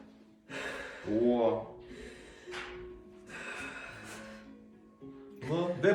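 Deep, audible breaths drawn in and let out during a chiropractic neck and upper-back adjustment, in several strong gasping pulls spread across the moment, with a person's voice mixed in close by.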